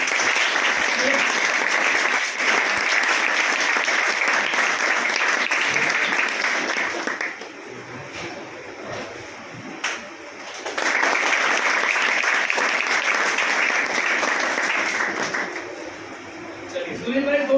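Audience applause at a gathering honoring a student who became an Indian Navy officer, a loud sustained clapping that dips briefly in the middle and then swells again, with crowd voices mixed in.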